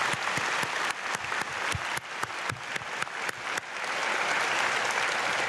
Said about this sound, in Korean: 성가대 박수